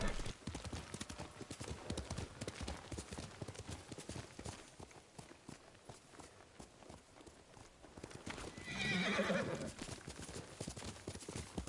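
A horse gallops in the video game Ghost of Tsushima, its rapid rhythmic hoofbeats pounding steadily throughout, with a loud whinny near the end and a voice faintly underneath.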